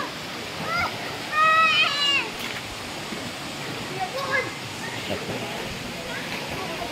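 Children splash and play in the water of the Tala River, a steady rushing wash with bursts of splashing and distant kids' shouts, while a nearby voice talks over it.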